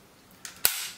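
An M1 Garand rifle of Korean War vintage fires outdoors in Busan: a faint crack is followed by a sharp, loud report that trails off into a brief echoing decay.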